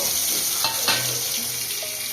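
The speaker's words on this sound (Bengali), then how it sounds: "এই একই তেলের মধ্যে এবার ডিমগুলো মাখিয়ে রেখেছিলাম সেইগুলো ভেজে নেব।" Coated duck eggs fry in hot oil in a pan, giving a steady close sizzle and bubbling that runs unbroken, with a few soft clinks of handling and no voices.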